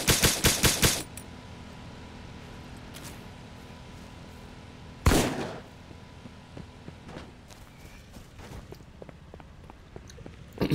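Rapid burst of automatic gunfire opens the scene in the survival shooter Miscreated, followed by a single loud shot midway, with sparse footsteps, faint clicks and quiet ambience filling the gaps.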